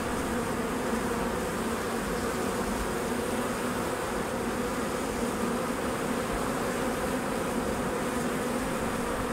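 Couple hundred honeybees from a newly installed package hang on the queen cage, buzzing as a dense, steady, close drone with no pauses and no voices.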